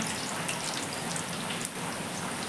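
Steady rain pours down outdoors in the rainy season, a dense, even hiss of drops striking surfaces that holds throughout without a break.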